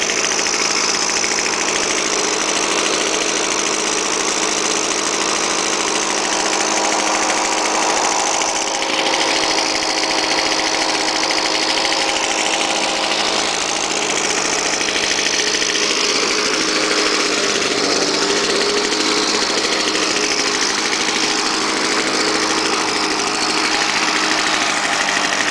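A small mower engine, likely an 85cc Victa, runs steadily throughout with a loud, rough idle and a mid-pitched knocking drone that holds at a constant level without pauses.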